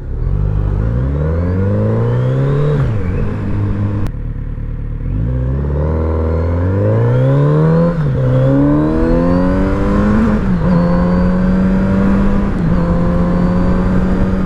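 A Kawasaki Z900 RS motorcycle engine while riding, steady and loud up close, with the pitch rising as it revs through the gears, dropping briefly at a shift and climbing again under continuous drive with no talking.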